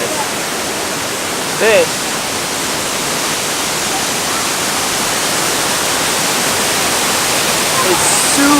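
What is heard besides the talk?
waterfall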